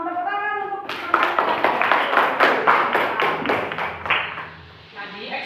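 A class claps quickly and rhythmically for a few seconds, with someone talking just before and just after.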